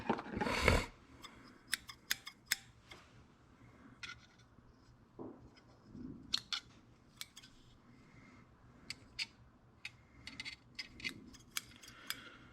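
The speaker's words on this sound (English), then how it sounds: "I'm gonna have to get some bigger scissors." Scissors snip a strip of hide while tying an ice fishing jig fly, giving scattered small clicks and sharp snips, quiet and close, after a louder handling rustle at the start.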